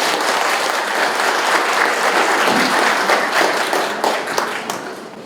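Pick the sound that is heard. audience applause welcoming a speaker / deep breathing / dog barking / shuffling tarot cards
audience applause welcoming a speaker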